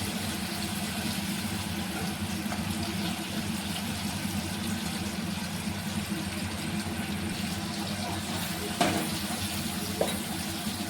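Potatoes fry in oil in a pan, giving off a steady, moderately quiet sizzle that runs unbroken throughout, with a couple of faint clicks near the end.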